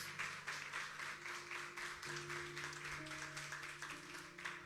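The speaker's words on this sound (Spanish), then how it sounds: "alguien que le aplauda a nuestro Señor y Dios" A church congregation claps in worship at Iglesia Aliento de Vida, rhythmic pulses of applause sounding with sustained organ or keyboard chords beneath.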